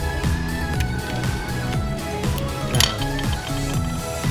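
Metal keyboard plate of an Acer Aspire 3 A314 laptop being pried and lifted off, giving repeated thin metallic clinks and rattles in a steady busy clatter throughout, close and fairly loud.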